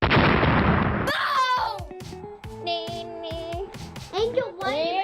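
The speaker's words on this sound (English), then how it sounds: "I'm gonna put an explosion effect when I threw the strawberry down" A short burst of broadband noise like a boom or explosion effect opens, cut off abruptly after about a second, followed by excited children's voices talking and shouting.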